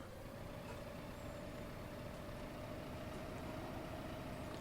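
A tractor in Farming Simulator 15 idles quietly in a steady, low drone that hums on without change or pause.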